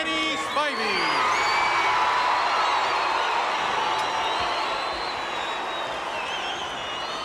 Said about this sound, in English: A tremendous crowd on hand.